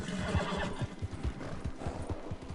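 Arabian horse from the video game Red Dead, with brisk rhythmic hoof clip-clops on the ground and a whinnying neigh, close and fairly loud without talk.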